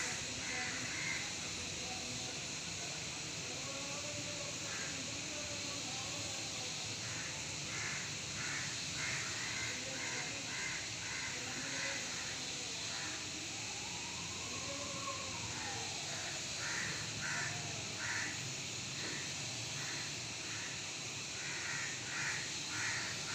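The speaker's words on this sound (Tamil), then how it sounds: "எல்லா காக்காயும் கத்த ஆரம்பிச்சிருச்சு" Several crows caw repeatedly in ragged overlapping bursts, fairly distant, over a steady background hum.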